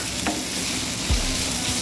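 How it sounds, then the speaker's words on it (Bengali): Dried fish (shutki) frying in a pan, a steady close sizzle with a brief scrape of stirring partway through; no voices. "আর একটু শুটকিটার সাথে যেন ভাজিটার স্মেলটা অ্যাড হয়, সেজন্য আর কিছুক্ষণ ভেজে নিলে আমার কমপ্লিট।"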